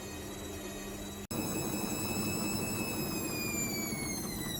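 Indesit IWDC6125 washer-dryer with a suspected drain fault, its drum spinning with a steady hum and rising tonal whine, broken once by a brief dropout, then running on continuously at moderate level.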